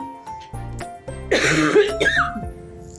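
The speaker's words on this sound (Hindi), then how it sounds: "सॉरी फ्रेंड, खांसी आ रही है मुझे, एकदम से आ रही है" A person coughs several times in quick, harsh bursts close to the mic, with a throat-clearing rasp between them.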